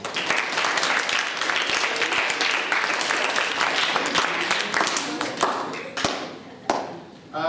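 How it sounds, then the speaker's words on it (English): Classroom audience at a student narrative publishing party applauds a student, brisk clapping that thins out into scattered individual claps and taps, with a voice speaking near the end. "So give her a round of applause, please."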